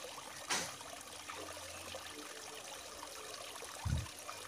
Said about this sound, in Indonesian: campuran santan dan juga gula merahnya tadi sambil kita saring supaya kotorannya nggak ikut ya